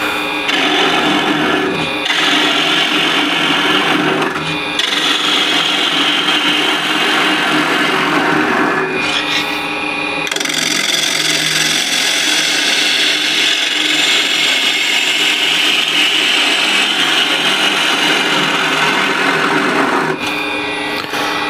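A bowl gouge cuts wood on a lathe, a loud continuous scraping, rubbing hiss with short pauses as the tool lifts off the spinning workpiece.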